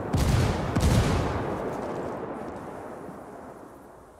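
Heavy gunfire in the tactical shooter Rainbow Six Siege, a dense loud burst of shots up front that tails off into a long fading rumble, with no voices over it.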